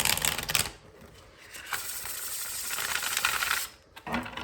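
A deck of tarot cards is shuffled by hand, giving fast riffling, flapping bursts of crisp papery clatter that stop and restart, close up with no talk over them.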